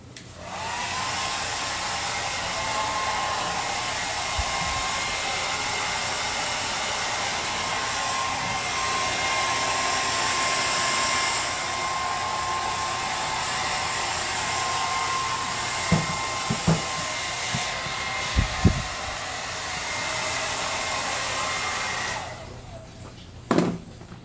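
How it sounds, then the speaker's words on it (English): A hairdryer blows steadily and loudly for over twenty seconds, drying paint on a piece of furniture given a faux wood finish, with a few faint knocks near the end before it cuts off. "I'm going to hit it with the hairdryer real quick, just to make sure it's dry."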